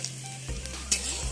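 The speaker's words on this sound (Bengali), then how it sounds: "আমি কটা শুকনো লঙ্কা দিয়ে দিলাম। এটাকে আমি ভালো করে ভেজে নেওয়ার পরে আমি এর মধ্যে মূলো শাকটা দিয়ে" Dried red chillies frying in oil in a home kitchen pan, a steady crackling sizzle with a few stirring scrapes and a sharp pop partway through, close and fairly loud with no talking.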